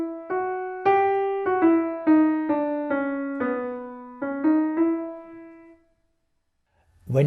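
The lower part of the melody from Beethoven's Eroica plays as a clear sequence of about nine sustained single notes, each with a struck attack and slow decay, followed by a brief silence.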